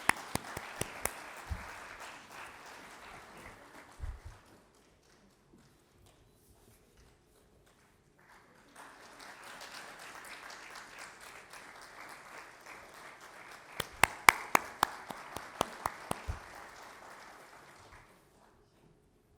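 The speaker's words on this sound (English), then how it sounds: "Please keep clapping." An audience at a fellowship convocation ceremony claps in two rounds separated by a quiet pause, with loud individual claps standing out close by over the dense applause.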